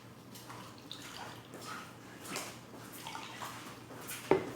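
Water poured into a mixture for a Milo leche flan, a soft splashing and trickling that comes in uneven surges with a small clink near the end, no talking.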